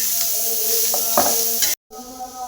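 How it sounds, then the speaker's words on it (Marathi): Onion browning in a little oil in a pan, a steady close sizzle with a few stirring scrapes, then a brief dropout before the hiss resumes. "कांदा पण आपण चांगला भाजून घेऊया"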